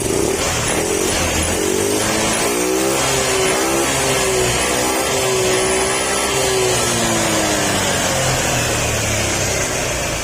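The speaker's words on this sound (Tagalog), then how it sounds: "kailangan natin siya na bigyan ng gas para hindi mabulunan or mamatay yung makina" A motorcycle engine roars loudly and continuously, its pitch rising and falling as the throttle is revved up and eased off while engine cleaner is sprayed in to keep it from stalling.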